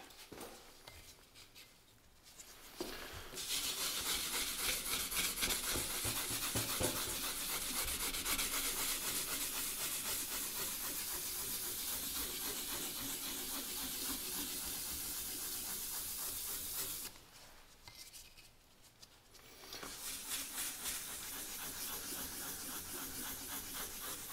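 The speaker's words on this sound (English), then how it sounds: "So we'll move on now to some 2000 grit, and then we should be able to polish the scratches out from that." Metal being wet-sanded by hand with 2000 grit sandpaper while restoring a 1920s Prentiss-Wabers Auto-Cook-Kit No. 4, a steady close rubbing hiss with quiet pauses near the start and past the middle.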